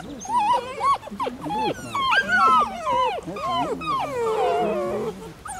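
A dog whimpers and whines in high, wavering cries, while people talk close by.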